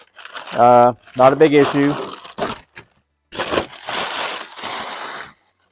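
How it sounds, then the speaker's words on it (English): Masking tape peels and crinkles off a painted R/C car body in short crackling bursts, close up, with someone speaking briefly at the start. "So now we're going to carefully untape it."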